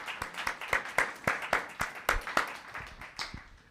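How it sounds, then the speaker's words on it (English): Quick, even claps at a town council meeting, fairly quiet, with sharp individual hand claps in a steady rhythm for a few seconds. "So let's give Jacob a big round of applause for his achievements."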